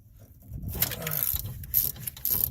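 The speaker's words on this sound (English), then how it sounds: "take a deep 15 millimeter socket and remove that as the final bolt" A deep 15 mm socket on a ratchet backing out an alternator bolt on a 2003 Ford F-150, giving short bursts of rapid metallic clicking close up with brief pauses between strokes.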